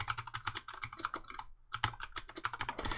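Rapid clicking keystrokes on a computer keyboard, close and crisp, run in quick bursts with a brief pause midway and then resume, with no talking.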